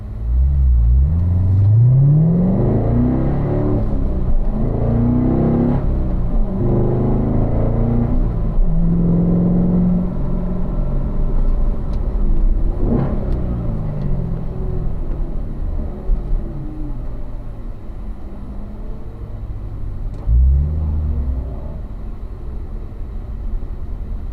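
A loud car engine roars close by on a race track, its pitch dropping and climbing through heel-toe downshifts from fourth to third to second gear before settling into a lower rumble.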